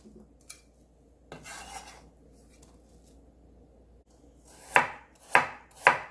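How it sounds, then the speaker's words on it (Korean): A knife slices an onion on a cutting board: a few soft cuts early on, then three loud, sharp chops near the end over a quiet background. "양파 한 개 썰어서 넣어줍니다"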